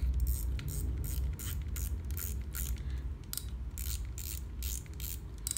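Ratchet clicker of a Japanese Shimano or Daiwa spinning reel with a clicking check, fast bursts of clicks repeating in quick pulses over a low background rumble, close and fairly steady.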